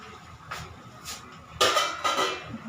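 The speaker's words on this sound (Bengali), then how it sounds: "এর মধ্যে এই সর্ষে পাউডারটা এর মধ্যে মিশিয়ে দিলাম" A spoon scrapes and knocks against a cooking pot while mustard powder is stirred into simmering food, a few short separate clinks and scrapes over a quiet background.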